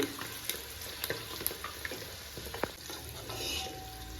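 Eggs fry in hot spiced oil seasoned with chili powder, salt, turmeric and coriander powder, a low steady sizzle broken by scattered pops and spatters, with a few soft utensil clinks and no voices.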